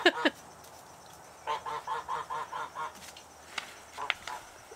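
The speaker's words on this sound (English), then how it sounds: "the geese have decided to walk behind me and say hello." Geese honk in a series of about eight nasal calls, close by and outdoors, with a couple of sharper calls near the start and more near the end.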